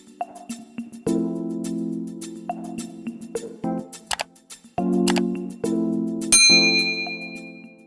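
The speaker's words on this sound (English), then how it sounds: "Sorry for those chimes." Chimes ring in a series of bright metallic dings with sustained, overlapping tones, some notes held and others struck briefly, ending in a higher cluster of tinkling strikes, close and fairly loud with no talking.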